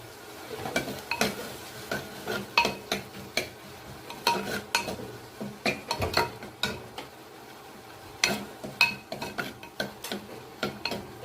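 Metal spoon scraping and clanking in a pan while vegetables fry for an Andhra brinjal, raw mango and prawn curry, in irregular bursts of stirring with short pauses, close and moderately loud, no talking.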